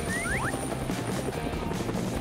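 A helicopter in a cartoon-style house challenge gives a continuous rotor whir with rapid mechanical chopping and clatter, loud and steady across the short span, along with a few rising whistle-like sweeps.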